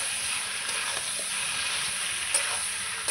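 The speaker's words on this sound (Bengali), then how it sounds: "মাংসটা ভালো করে নাড়াচাড়া করে নেব পেঁয়াজের সঙ্গে।" Chicken pieces fry in hot oil with onions while being stirred, giving a steady, close sizzling hiss with a few faint scraping knocks and no voices.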